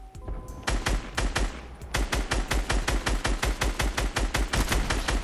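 Rapid video-game gunfire in Fortnite Battle Royale, bursts of loud, close shots in a fast steady rhythm with no talk over them.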